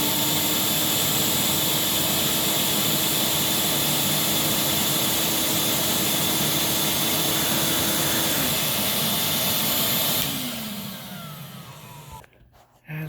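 A Fairfax vacuum cleaner runs with its main motor and power head on, a loud steady whine with a tone that shifts midway, then winds down and drops off near the end.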